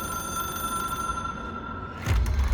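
Telephone ringing in the video game Control, a bell-like tone held steady over a low hum and background rumble, then cut off by a loud, deep thump near the end.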